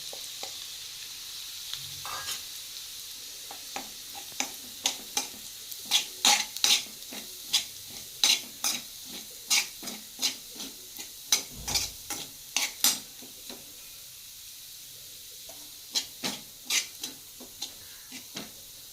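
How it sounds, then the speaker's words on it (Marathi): A chili and peanut paste is sautéed in a pan, with a soft background sizzle and a fast run of sharp clicking scrapes from the stirring spoon that cluster in the middle and thin out toward the end. "आता जे आपण मिरचीचं आणि शेंगदाण्याचं वाटण केलं होतं ते ह्याच्यामध्ये टाकूया आणि हे चांगलं परतून घेऊया."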